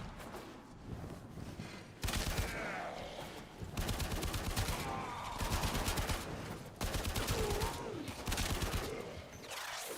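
A Bratton machine gun fires in a video game, loud sustained bursts of rapid automatic gunfire separated by brief pauses.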